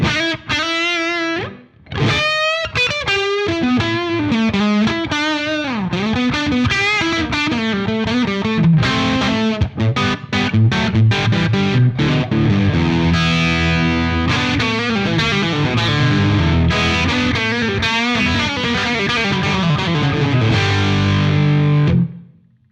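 Electric guitar through an overdrive pedal: gritty, distorted chords and single notes ringing out, played alone at steady volume.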